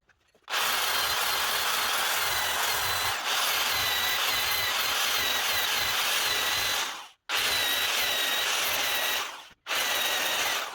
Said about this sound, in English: I always just try to drill them from the backside